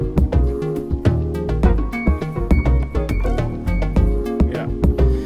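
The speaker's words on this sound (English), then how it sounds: "So I'm going to apply some straight up transposition and bring this down 4 semitones" A bass loop pitched down four semitones with zplane Retune plays a punchy, repeating groove with steady rhythmic hits, loud and alone.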